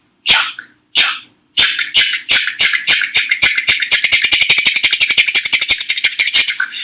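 A voice imitates train wheels running down the track, a string of short, breathy chugs that start slow and speed up into a quick, even rhythm, loud and close.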